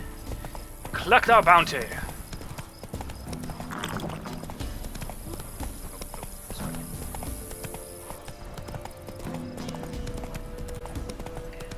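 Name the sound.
horse Roach galloping in video game The Witcher 3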